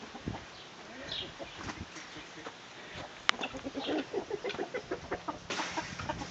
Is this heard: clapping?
no